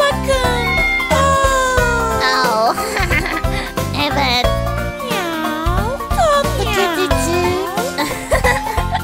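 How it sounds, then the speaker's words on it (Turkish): Cat meowing in a children's farm nursery rhyme with music: a series of drawn-out, arching meows repeated in rhythmic groups over the backing track. "Kedi traktörde miyav miyav miyav"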